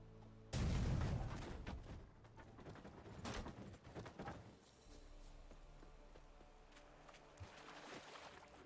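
A sudden loud boom bursts out in The Witcher 3, followed by scattered thuds and crackling impacts that fade into a quieter rumbling background.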